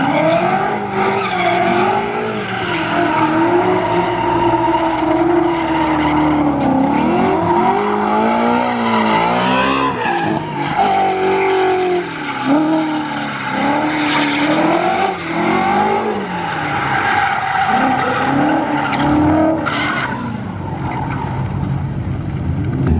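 A 2017 Ford Shelby GT350 drifts with a loud, continuous engine roar that rises and falls, with tires squealing and skidding throughout, all close and dense.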